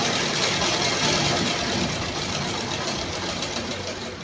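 Sewing machine stitching a blouse, giving a steady, close mechanical whir with a fast regular rhythm that eases slightly toward the end.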